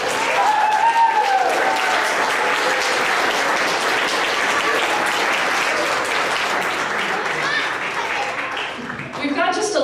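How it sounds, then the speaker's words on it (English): Sustained applause from an audience at a church hall after a youth drum camp's final show, steady and dense throughout with a slight fade near the end. "A round of applause for Bibi Sharif."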